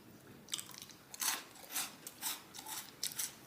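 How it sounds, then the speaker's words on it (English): Someone bites into and chews a crunchy vegan, gluten-free gingersnap cookie close to the mic, giving a run of dry, crackling crunches at irregular intervals that taper off over a few seconds. "you're gonna hear the crunch when I eat it"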